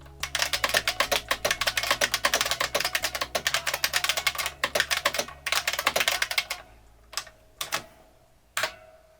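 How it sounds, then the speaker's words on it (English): Rapid, loud clacking of an IBM Model F buckling-spring keyboard on an IBM 5160 XT, steady typing for several seconds, then a few isolated keystrokes trailing off. "let's take a look at the keyboard, which is this glorious IBM Model F"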